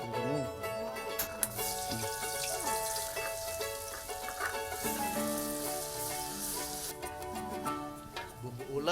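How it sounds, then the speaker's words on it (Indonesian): Ground spice paste sizzles and fries in hot oil, a steady crackling hiss under background voices and music at a communal cooking event. "Bumbu ulek langsung ditumis dalam minyak panas"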